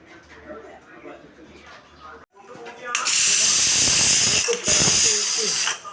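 After a few seconds of soft talk and kitchen sounds, a pressure cooker cooking jackfruit seed curry lets out a loud, sharp steam whistle in two long hissing bursts.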